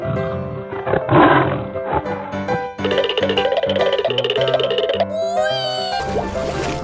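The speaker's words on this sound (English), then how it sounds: "Tiger." A tiger's roar rises loudly near the start over a busy musical backing, and the music carries on after it fades.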